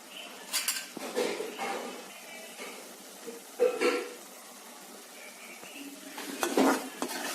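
A utensil scraping and clanking in a pan in several bursts, over a soft continuous sizzle of capsicum and gram flour frying; no talking.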